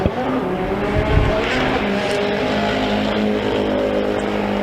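A race truck engine roars at a short course race in a mini stock event, a loud, continuous rumbling drone with a sharp burst near the start and engine tone holding steady throughout.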